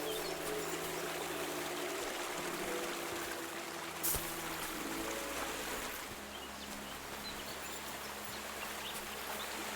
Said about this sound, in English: Oh, here's the waterfall.